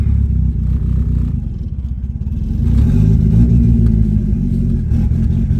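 A loud 1990 Eclipse GSX engine idles roughly, then revs up and stays at a higher, rumbling pitch with some clatter.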